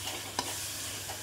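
Paneer and potatoes fry in spiced greens in a pan, giving a soft continuous sizzle with one brief scrape of stirring near the start, faint and close.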